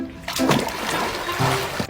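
People splash about in a swimming pool, the water slapping and sloshing loudly and close by in uneven bursts, with faint voices mixed in.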